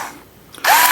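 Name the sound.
cordless electric drill driving screw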